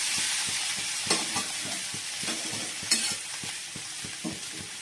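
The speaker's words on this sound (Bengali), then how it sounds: "পেঁপে আলু দিয়ে তরকারি করবো, তার মশলা দিয়ে ভালো করে কষাচ্ছি" Spices for a papaya and potato curry sizzle in hot oil while a spoon stirs them, with a steady frying hiss broken by sharp scraping clicks against the pan.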